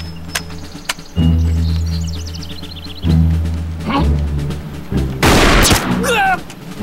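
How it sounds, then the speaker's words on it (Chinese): An old rifle fires one loud, sharp blast late in the scene amid outdoor action, preceded by thumps and scattered noises, with a dog-like yelp following. "这枪劲道很足的"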